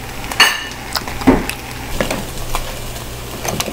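Bow tie pasta is stirred and mixed in a pot, with a few sharp clinks of a spoon against metal and soft wet squishing sounds spread irregularly. The sounds are close and there is no talk.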